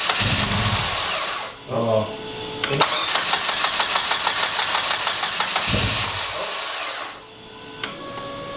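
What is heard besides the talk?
car engine starting and running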